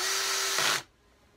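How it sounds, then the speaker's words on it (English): A power drill whirs briefly and close as it drives a screw into a panel of a Suzuki Address 110 scooter, then cuts off abruptly into near silence. "I'm just using the drill to do the donkey work of putting all 8 screws in"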